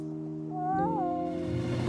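A cat in a Bob the Builder cartoon gives a single rising, drawn-out meow, clear and close over a soft musical bed.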